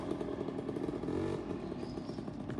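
A scooter rides past with a buzzing two-stroke-style engine drone that swells briefly and then recedes, close and fairly loud over about two seconds.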